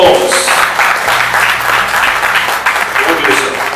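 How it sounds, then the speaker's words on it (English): Audience applause at a monthly business association meeting, a steady dense clatter of many hands close by that holds evenly for about four seconds without pause. "let's give a thunderous round of applause in welcoming Moses Holmes"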